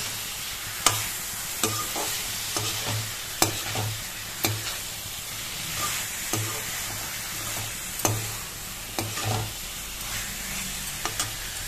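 Elephant foot yam sautéing with spices in a pan, a steady low sizzle punctuated by repeated sharp spatula scrapes and clinks against the pan, close and fairly quiet, with no talking.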